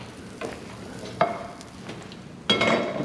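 A breakfast quesadilla sizzles and crisps in a frying pan, a steady close crackle punctuated by a few sharper scraping or stirring sounds at irregular intervals, with no talking.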